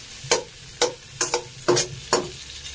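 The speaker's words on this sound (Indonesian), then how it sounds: "dan kita masukin daun jeruknya, kita angsreng-angsreng sebentar" Kaffir lime leaves being stir-fried in gado-gado spice paste in a pan, five sharp scraping strokes of a spatula at an uneven rhythm, each with a short sizzle, close and clear.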